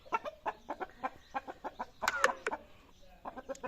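A rooster gives a quiet run of short, rhythmic clucks, repeated pulses spaced fairly evenly with one slightly louder burst midway, with no talking.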